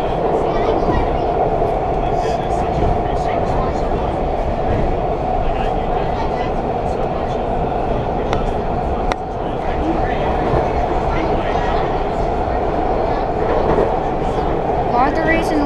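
A WMATA Rohr 1255 Red Line metro train running through a single-tube tunnel between stations, giving a loud continuous rumble and wheel roar with faint rhythmic clacks, heard from on board with a voice speaking at times.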